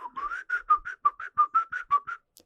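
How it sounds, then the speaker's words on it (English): Someone whistles a quick run of about a dozen short, clear notes in an even rhythm, close and fairly loud, with no talking. "And I would just start whistling."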